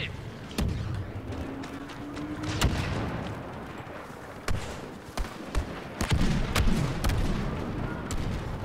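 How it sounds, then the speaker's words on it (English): Ion cannon artillery pounds a Naboo battlefield in Star Wars Battlefront 2, a string of sharp blasts and booms scattered irregularly over several seconds amid rumbling background battle noise. "Ion fire effective!"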